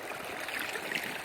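A river stream flows steadily past at close range with a continuous soft rushing and trickling, no voices over it.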